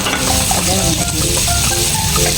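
Chopped onions sautéing in a hot pan as the base for pork sinigang, a loud, dense sizzle with stirring scrapes running throughout, close up and without speech.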